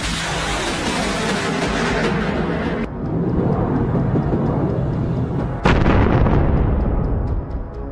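A HIMARS rocket launcher fires in a combat strike, giving loud, sustained blasting roars that come in abrupt surges and tail off toward the end.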